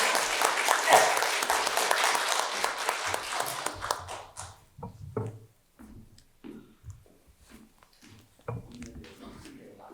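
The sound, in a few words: congregation applause in church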